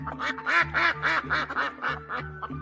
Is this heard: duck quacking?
yes